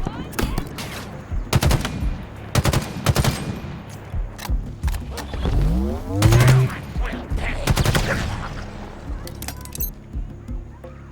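Bursts of automatic gunfire from a video game firefight aimed at a jackal, with rapid cracks clustered in several volleys and a metallic clink among them, loud and close with no talk over it.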